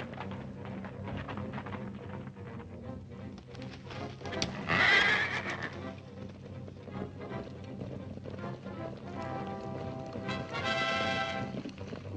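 Horses whinny loudly twice in an old 1939 Zorro adventure serial, shrill neighs rising over a steady clatter of hooves and rumbling movement, close and busy, with no talking.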